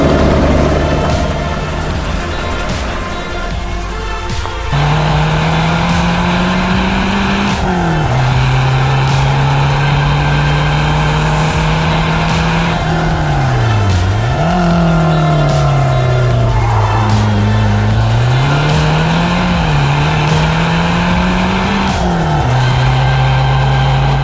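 A Renault 5 Copa Turbo Alpine drives hard along a mountain road. Its loud, close engine rises and falls continuously through gear changes and revs, with a faint squeal of tires in places and no speech.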